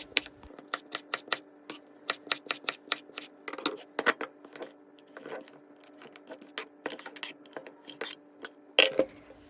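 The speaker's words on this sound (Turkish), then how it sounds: "Bunun için patateslerimizi kibrit çöpü gibi ince ince doğruyoruz." Knife slicing raw potatoes into thin matchstick strips on a cutting board for a Turkish çökertme kebab, giving a steady run of crisp, close chopping taps in quick bursts, with no talking.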